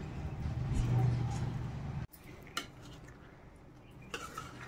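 Drumstick pieces being mixed with pickle masala, a dense, wet scraping and churning for about two seconds, then scattered clinks and taps of a spoon against the bowl.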